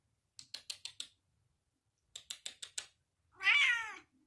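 A single drawn-out cat meow comes near the end, close and clear, after two quick runs of five sharp rhythmic ticks separated by a short silence.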